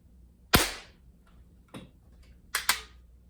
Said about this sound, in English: we're just going to take a few shots at each one and see how they group